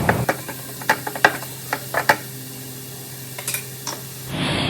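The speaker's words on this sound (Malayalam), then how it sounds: "ഈ ഒരു സവാള നല്ലതുപോലെ ഒന്ന് വഴറ്റിയെടുക്കുക" Onion sautéing in a pan with red chilli powder and salt, stirred in short scraping bursts over a steady soft sizzle, with a brief hiss near the end.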